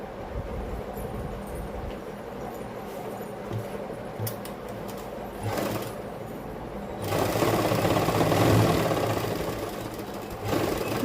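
A sewing machine runs in bursts while stitching pleats into fabric, a steady mechanical whir that grows louder and denser in a longer run near the end, with no talking.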